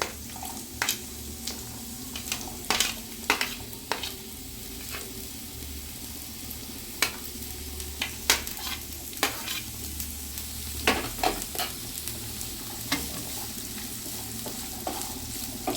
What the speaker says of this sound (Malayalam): ബട്ടറിലാണ് ഇതെല്ലാം സോട്ട് ചെയ്യുന്നത്